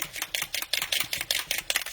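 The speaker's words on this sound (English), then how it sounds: "This one has, can you hear it? Has like a nail polish bead in it." A mixing bead rattles inside an Ulta Beauty makeup setting spray bottle being shaken, giving quick, sharp clicking bursts in an irregular rhythm, close and fairly loud with no talking.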